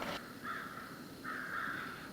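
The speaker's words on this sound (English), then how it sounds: "so I could listen to the crows going crazy" Crows caw in the woods, two drawn-out harsh calls from a moderate distance over a quiet outdoor background, with a brief pause between them.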